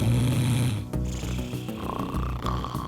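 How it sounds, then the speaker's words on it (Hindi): Loud, rhythmic snoring from a sleeper close by, a rough rattling snore that fills the first second and then fades into softer breathy sounds and low rumbles. "इन खर्राटों के कारण आप खुद तो सुकून की नींद सो नहीं पाते हैं"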